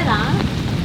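Rain falls in a steady wash of hiss during an outdoor shoot, running through the brief moment with a voice briefly heard over it at the start.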